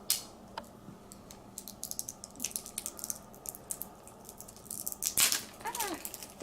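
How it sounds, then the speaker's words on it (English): Batteries being unwrapped from their packaging during the unboxing of an Equate 4500 Series wrist blood pressure monitor: quiet, sparse crinkles and ticks of plastic wrap, with a louder crackling burst near the end. "So carefully I will unwrap the batteries."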